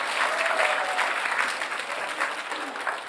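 A church congregation at a Friday night service claps together in a dense, continuous burst of applause that stays steady and fairly loud.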